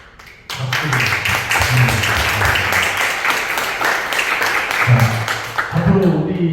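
An audience at a youth writers' literary concert breaks into sustained applause, many hands clapping densely at close range, starting abruptly and holding steady for several seconds.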